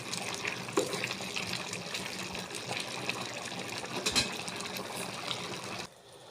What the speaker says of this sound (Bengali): দেখো আমার খিচুড়িটা একদম ফুটে আসছে